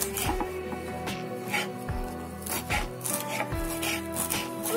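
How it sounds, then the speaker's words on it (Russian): A knife chops dill on a cutting board while a cabbage and cucumber salad is made, giving repeated soft thuds and rubbing scrapes in an uneven rhythm under a noisy kitchen background. "Режу укропчик."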